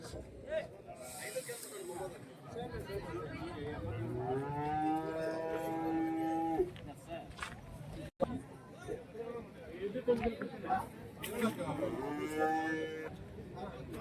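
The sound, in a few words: cattle mooing at a cattle market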